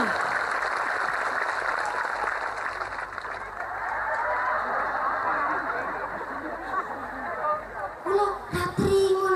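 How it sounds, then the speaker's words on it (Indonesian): Audience applause at a religious gathering (an Islamic sermon event in Ngawi, Indonesia): a steady, broad wash of clapping from a large crowd that thins toward the end, with scattered voices and louder bursts near the close. "Tepuk tangan dulu dong."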